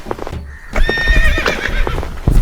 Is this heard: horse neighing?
yes